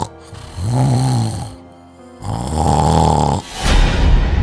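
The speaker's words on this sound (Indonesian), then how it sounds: "Dengkuran ni kuat sangat ni." Loud snoring close by, in three long rasping breaths with brief quiet gaps between them, and no voices.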